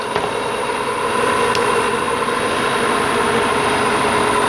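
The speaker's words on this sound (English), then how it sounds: "the groaning sounds like it's coming from there" Groaning belt tensioner on an Audi engine, picked up through a mechanic's stethoscope: a steady, close, noisy drone with faint tonal hum running unbroken throughout.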